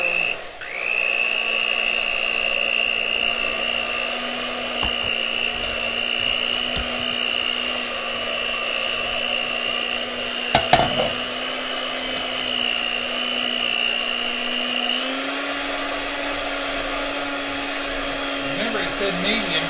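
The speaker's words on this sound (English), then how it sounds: "So I'm going to turn on this loud mixer." Loud electric cake mixer running on medium while making ruby slipper cake, a steady close whirring drone with a high whine that holds throughout, broken by a brief clatter midway.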